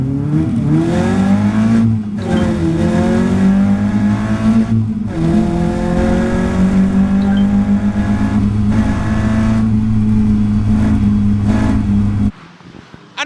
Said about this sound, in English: On the grid with 25 other cars for that all-important start